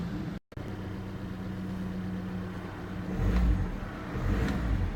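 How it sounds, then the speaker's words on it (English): A 2008 VW Passat 2.0 TDI diesel engine cranks after a brief pause and settles into a low, steady rumble, growing slightly louder toward the end as it runs. "and then we'll start the car up now"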